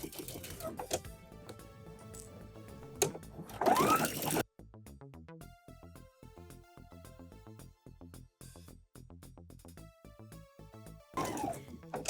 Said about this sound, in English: we're going to sew it together with a 1/4 inch seam